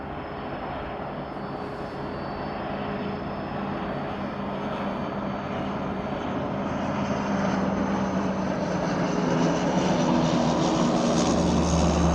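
An airliner's engines roar at East Midlands Airport during a takeoff or landing, a steady loud drone that swells slowly and deepens toward the end, heard up close in the open air.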